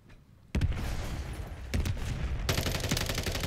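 Rapid automatic gunfire from a weapon in a first-person shooter video game, a sustained burst of fast shots starting abruptly, briefly easing, then resuming even louder and dense until the end.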